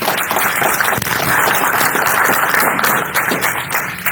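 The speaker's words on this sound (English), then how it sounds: "So one more round of applause." Audience applause at an engineer day award ceremony, a loud sustained roar of many people clapping that holds steady and tapers slightly near the end.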